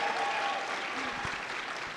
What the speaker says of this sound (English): if everyone can give them a round of applause as well.